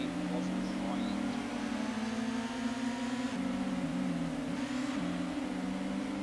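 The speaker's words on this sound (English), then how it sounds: "I like how all you can hear is my car." An LMP racing car engine in the video game Gran Turismo 1 drones loudly and continuously, its pitch shifting slightly as it revs and eases.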